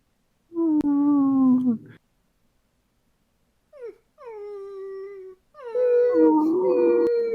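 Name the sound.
person imitating a dog whining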